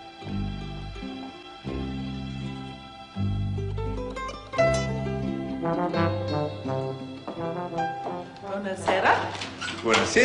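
A dog barks and whimpers in a series of yips and whines, mixed with voices and a busy tonal background, rising to a denser, louder burst near the end.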